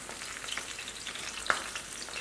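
A tempura-battered prawn frying in hot oil gives a soft, even crackling sizzle with a few brighter pops, heard up close for a couple of seconds without any talk.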